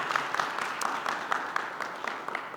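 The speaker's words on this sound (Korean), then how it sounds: "하나님께 영광의 박수 한번 올려드릴까요?" A church congregation at a Sunday youth service claps together, a dense, even patter of many hands sustained at moderate distance throughout.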